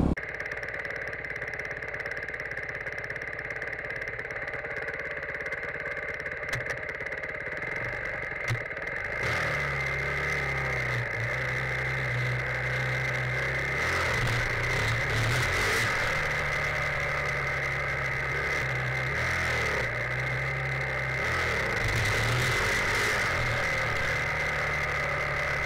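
A motorcycle engine drones steadily up close while the bike is ridden in a wheelie, with a low rumble that deepens and surges after the first few seconds and keeps running without a break.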